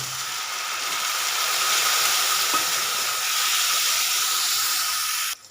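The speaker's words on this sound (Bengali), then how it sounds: "এবার এতে সামান্য পরিমাণ জল দিয়ে মশলাটাকে ভালো করে আমি এখানে ভেজে নেব" A spice paste of coriander, cumin and turmeric fries with a splash of water in a pan, giving a steady close sizzling hiss that cuts off abruptly at the end.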